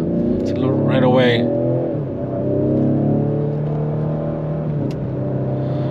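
A 2021 Ford Explorer ST AWD with the high-performance brake package accelerates from the driver's seat, its engine note rising in a steady, close, moderately loud pull while someone talks over it.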